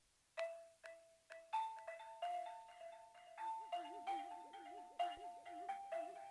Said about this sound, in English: Next, here's this little bell.